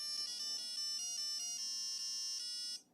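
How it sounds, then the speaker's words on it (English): Beeping electronic tones from the Game Wizard LCD handheld game playing Princess Leia's Rescue, a run of short high-pitched bleeps in a quick irregular rhythm, then a few longer sustained tones, fairly loud and alone before cutting off. "We have the usual irritating LCD game sounds to accompany our romp across the screen."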